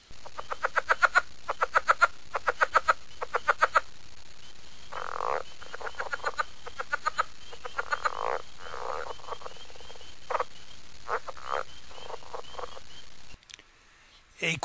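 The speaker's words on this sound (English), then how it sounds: "And this is a southern leopard frog." Southern leopard frog calls, rapid clucking croaks in quick repeated pulses and short chuckling bursts over faint background hum, near and clear, with other frogs calling in the distance.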